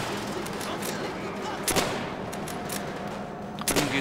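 MG 42 machine gun fire in Call of Duty: World at War, a dense steady clatter of battle noise with sharper bursts standing out near the middle and the end.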